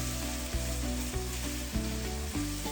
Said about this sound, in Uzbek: Ketidan bulg'or qarampiri, sarimsoq piyoz, pomidor va tomat pastasidan qo'shib qovurishda davom etamiz.